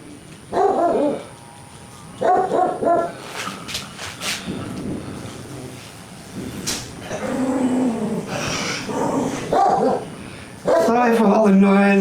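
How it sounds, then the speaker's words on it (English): Several dogs bark loudly in repeated bursts close by on a windy day, with yips and whimpers in between and a person talking over them. "Sorry for all the noise, my dogs"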